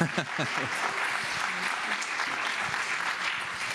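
Audience applause fills a conference session on a connected, digitally transformed Africa, a steady dense wash of clapping that holds for the whole stretch, with a few low voices murmuring underneath near the start.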